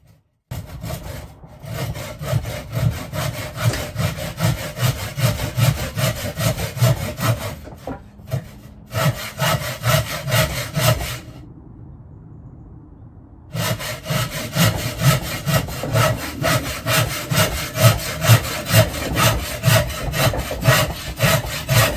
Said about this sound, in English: when I've cut it down to size with a hole in, will sit on the top of that. So let's find the saw.